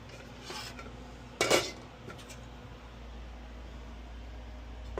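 Metal utensil clinks and scrapes against a pan while breakfast burrito filling of eggs, steak and bacon is mixed, a couple of sharp knocks over a quiet background.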